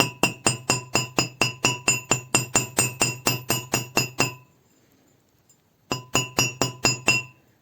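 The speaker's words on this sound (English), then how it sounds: "and we hammer it" A hammer striking wire flat on a hard steel block for a wire-wrapped jewelry pendant, a steady run of sharp metallic clinks, a pause of about a second and a half, then a shorter burst of the same taps.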